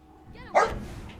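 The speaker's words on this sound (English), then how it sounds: "Lance, stop barking." One short bark from a dog named Lance rings out at close range, a single sharp yap with a bit of low background rumble and no talking.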